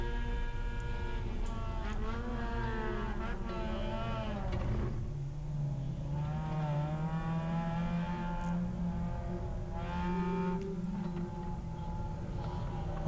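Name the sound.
race car onboard during a braking move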